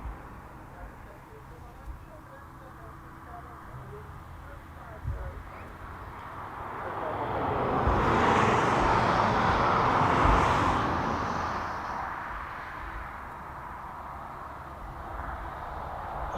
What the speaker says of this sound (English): So that DHL 767 from Reykjavik is on finals.